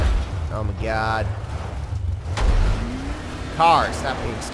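Car engine from The Following video game droning steadily at close range, with voices talking over it in bursts.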